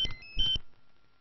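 A mobile phone rings in a comedy film scene with two quick electronic chirps of bright beeping, then a near-silent tail.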